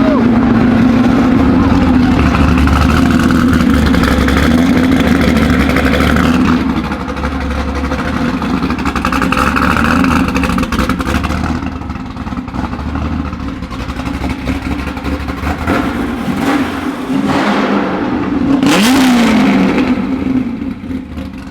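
A new Ford GT sports car engine fires up and revs, a loud, sustained low drone that swells and dips with throttle blips and a sharp rise near the end.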